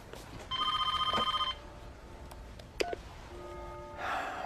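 A wall-mounted telephone is dialed with a quick, even run of touch-tone beeps, followed by a few scattered clicks and one more short tone in a quiet room.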